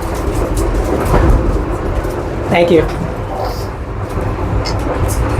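An old Soviet-style elektrichka train riding through Bulgaria, a continuous rumbling roar of the carriage with faint rattles, and someone speaking briefly over it.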